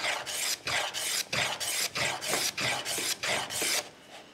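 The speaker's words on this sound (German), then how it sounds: "Das erste, was ich probiere, ist, diese Kanten anzufasen." A file rasps chamfers onto the wooden edges of a part for a homemade bandsaw tensioning device, giving about nine rhythmic back-and-forth strokes that are close, gritty and evenly paced, with no voices.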